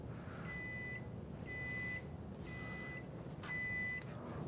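A Kenmore Pro Series refrigerator control panel beeps three times in short, evenly spaced electronic tones, clear over a steady low background hum.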